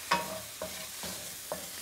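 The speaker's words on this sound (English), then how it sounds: "That hissing sound that the mushrooms are releasing is very good because that means the moisture that they have, they're releasing." Mushrooms seasoned with salt, pepper and paprika hiss and sizzle in a frying pan over low heat, a steady close crackle broken by a few soft clicks from stirring.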